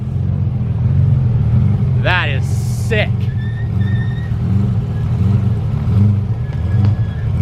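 White McLaren F1 supercar driving on a public road, its engine a steady low drone passing nearby while someone speaks excitedly over it and other traffic noise is mixed in.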